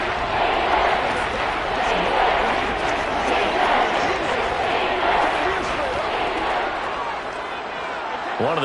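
A stadium crowd roars steadily through a big third-down moment in the football video game Madden 22, loud and sustained, while commentary voices talk over it.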